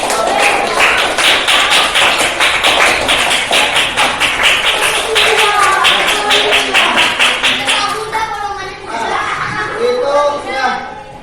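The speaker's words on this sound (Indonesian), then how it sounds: "beri tepuk tangan untuk kelompok" An elementary school class claps together for a group of pupils, a loud, dense, rapid burst of many hands close by, with children's voices and chatter rising as the clapping thins out near the end.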